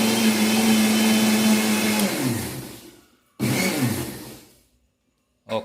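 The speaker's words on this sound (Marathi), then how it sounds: "आता हे मिश्रण मिक्सरमध्ये फिरवून घ्यायचं आहे." A Bajaj RX 500 mixer grinder whirs loudly, blending a gram flour and curd mixture, then winds down into silence before a second shorter burst and a final brief pulse.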